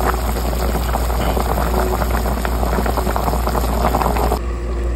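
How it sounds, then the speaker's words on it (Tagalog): A pot of mung beans with lechon boils on the stove, giving a steady, close bubbling and hissing with a low background hum and no talking. "pakuluin lang natin siya"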